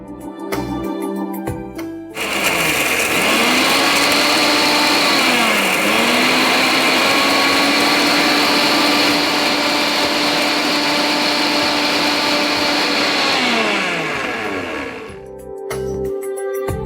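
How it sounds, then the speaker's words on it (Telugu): A kitchen mixer grinder whirs loudly and steadily for about eleven seconds, grinding a roasted Chettinad spice powder for chicken Chettinad, with brief pitch dips as the motor is pulsed before it spins down to quiet. "దాన్ని మిక్సీ పట్టేసుకుందాం."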